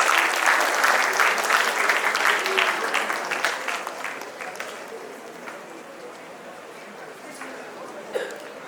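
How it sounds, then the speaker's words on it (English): An audience at a school awards ceremony applauds for a prize-winning school, starting as loud, dense clapping that gradually thins and fades, with a few last claps near the end. "A well-deserved applause for them, please."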